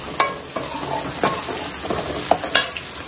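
Tomatoes, shallots and curry leaves sauté in a pan for a country chicken curry, a steady sizzle broken by several sharp clinks and scrapes of stirring, close by, with no talk.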